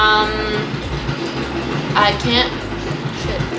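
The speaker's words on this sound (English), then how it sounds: "the train is right next to us, so whenever I open the windows, I hear trains all the day" A train runs right beside a house, making a steady, continuous rumble and rattle with a faint horn-like tone, while a person speaks briefly over it.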